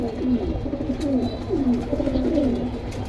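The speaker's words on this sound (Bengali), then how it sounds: "মিলিটারি ফ্যাটের কবুতর মিলিটারি ফ্যাটের কবুতর হ্যাঁ?" A pair of military pigeons kept for sale cooing up close, with repeated warbling, rolling coos that follow one another steadily over a faint background.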